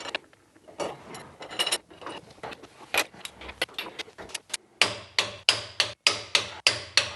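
A torque wrench tightening suspension bolts on a Mazda BT-50 or Ford Ranger 4WD, heard as a close series of sharp metallic ratchet clicks and clunks that settles into a regular rhythm of distinct strikes toward the end.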